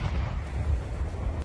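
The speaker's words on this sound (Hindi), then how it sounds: "रूस की तोपें ऐसी गरजती दिखी मानो यूक्रेन का" Russian artillery cannons fire in the Donbas war zone, a loud sustained low rumble of heavy booms and concussive blasts rolling continuously with no pause, no voices heard.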